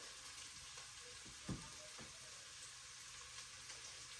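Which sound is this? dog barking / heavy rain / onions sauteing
onions sauteing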